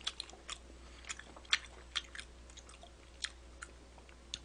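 Raw yellowtail sashimi dipped in ssamjang being chewed up close, with sparse soft wet clicks and small crunchy bites spaced irregularly in a quiet setting.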